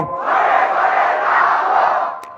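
A large crowd at a rural Islamic gathering in Shibpur Koigari, Khetlal, Joypurhat chants the Nara-e-Takbir battle cry in unison, one loud sustained roar of many voices that swells and holds for about two seconds before falling away.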